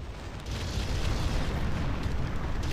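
A hoverdyne vehicle blows up in a video game as a dense, sustained roaring rumble that swells after a brief lead-in and stays loud and heavy throughout, with no voices.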